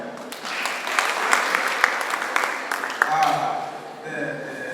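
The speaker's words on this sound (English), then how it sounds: "let's clap for them" Audience applause fills a student conference hall at the Female Student Leaders' Conference at Wakisha Centre in Uganda. Dense, steady clapping with cheering voices runs throughout and tapers slightly near the end.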